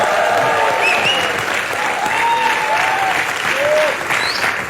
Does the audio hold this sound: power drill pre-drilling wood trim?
no